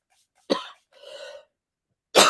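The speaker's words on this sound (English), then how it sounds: "I'm starting to cough." Three separate coughs from one person, a sharp burst, a longer rasping cough, then a loud abrupt one at the end, close and clear with quiet between them.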